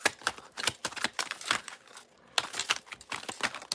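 Rapid crisp riffling and snapping of cards in quick bursts, with a brief pause midway before another flurry of shuffling, close and fairly loud.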